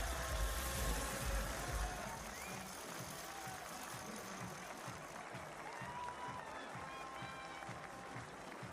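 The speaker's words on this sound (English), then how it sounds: "getting a huge cheer from the crowd as the youngster makes his World Cup debut here in Saalbach" Spectators at the Saalbach Hinterglemm alpine skiing World Cup Finals cheer as a young skier makes his debut. A broad, distant wash of crowd noise and applause rises at first and then settles into a softer sustained roar.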